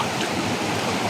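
Water rushes in a loud, continuous broadband wash, close by, like a stream pouring over rocks, with no break and no voices.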